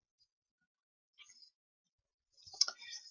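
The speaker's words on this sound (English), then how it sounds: "So I'm going to click here." A computer mouse clicking in a quiet room, a faint single click followed a second later by a brief cluster of sharper clicks, no talking.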